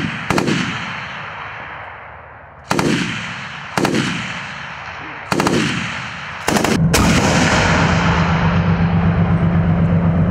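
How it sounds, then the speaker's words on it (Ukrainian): Four or five loud, booming blasts from a 73 mm gun firing shells at a military range, each with a long rolling echo, followed by a steady engine rumble underneath; no voices. "Постріл і снаряд летить у бік ймовірного супротивника"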